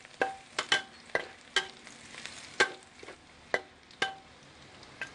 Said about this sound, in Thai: ใส่กระเทียมลงไป